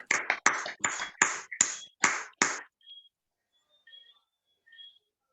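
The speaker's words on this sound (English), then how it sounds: "the clapping don't sound like you're welcoming me at all" About seven separate claps from a Kiwanis club member on an online call, welcoming a guest speaker, close and sharp in a quick uneven burst, then a few faint electronic pings in near silence.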